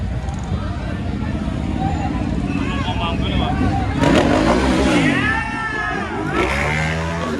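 A Ducati motorcycle's exhaust revs at a crowded outdoor motorcycle challenge event in General Santos, the engine roar rising and falling amid crowd babble and someone talking.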